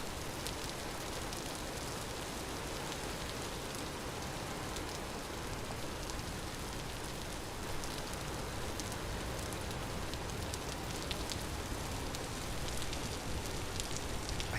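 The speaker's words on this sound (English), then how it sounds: "I can barely hear the happy music over the rain." Steady rain in the video game Vintage Story, a dense even hiss of drops pattering on surfaces, constant and fairly faint from start to finish, with no talk.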